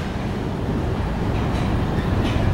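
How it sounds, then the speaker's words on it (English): A heavy BNSF freight train hauled by GE locomotives rumbles past close by in Minneapolis, Minnesota, a steady low roar with faint rattling above it, no talking. "The train's going."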